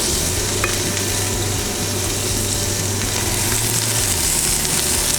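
Bacon-wrapped stuffed duck poppers frying in a pan over medium heat, a dense, even sizzle with fine crackle running steadily throughout beneath a low background hum, no speech.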